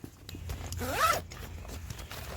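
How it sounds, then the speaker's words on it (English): A zipper draws shut across the top of a Source Aquasource 25-litre water tanker hydration carrier, one quick rising rasp at close range over quiet room tone. "You just tuck that back down and zip the top up, and there you go."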